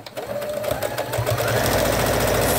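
A sewing machine stitches cloth wipes, running with a fast, steady mechanical whir and rapid needle chatter, close and loud.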